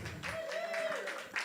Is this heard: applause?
yes